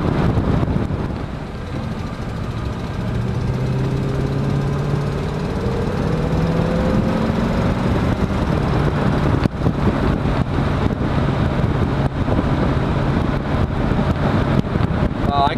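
A 1937 Chevy step side truck driving along, its engine a steady low drone with rising gear tones beneath heavy wind buffeting on the microphone, loud and continuous throughout.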